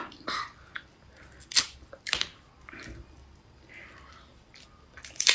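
A large lychee with a hard shell being bitten and chewed, several crisp cracking crunches and small moist chewing sounds spaced apart, close and fairly quiet with faint background hiss.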